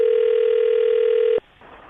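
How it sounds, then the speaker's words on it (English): A steady telephone dial tone hums for over a second before cutting off abruptly into a faint line hiss as a call is placed. "are you ready to give Jillian a call?"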